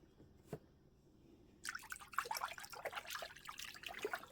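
Lukewarm water with a little dishwashing liquid is swished around in a container, starting as a faint lone drip and then becoming a steady, soft sloshing trickle heard close up and quiet, with no speech.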